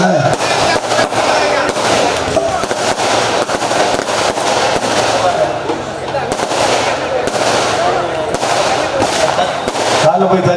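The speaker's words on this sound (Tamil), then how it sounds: "கல்யாணத்துக்கு வெடி போட்டாச்சு" Firecrackers set off for a wedding celebration crackle in a loud, rapid, continuous string of sharp bursts lasting several seconds, with a few louder pops standing out.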